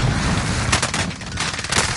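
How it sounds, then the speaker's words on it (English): A thrown grenade blasts in Warzone, a loud, dense roar of gunfire and explosive noise that fills the whole two seconds with choppy bursts and no pause. "Throwing nade."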